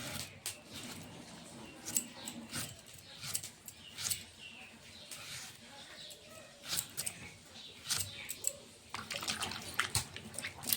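Freshly cut sweet pumpkin pieces being washed by hand in water in a home kitchen, with irregular splashing and sloshing that rises and falls close by, alone without talk.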